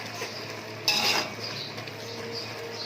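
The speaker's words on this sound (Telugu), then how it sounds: "మూత పెడతాను. 10 నిమిషాలు మూత పెడతాను." A lid goes onto a cooking pot of tomato rice with a single short metallic clatter partway through, over a faint, steady kitchen background.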